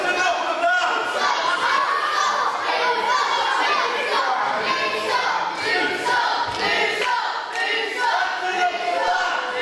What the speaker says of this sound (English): As you can tell, the crowd firmly favouring Mike Musso and not so much favouring Luke Aldridge